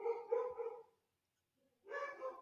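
A dog barks indoors in two short bursts of several quick, fairly close barks with a clear pause between them and no talk over them.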